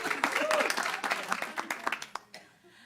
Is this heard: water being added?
no